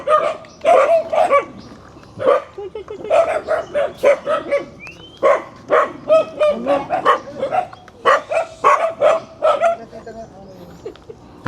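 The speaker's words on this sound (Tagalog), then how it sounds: "Nakakatakot ang mga aso ni Tatay Abilino" Several dogs bark repeatedly and aggressively, close by, in an irregular run of loud barks with occasional yips and whimpers, and voices talk intermittently among them.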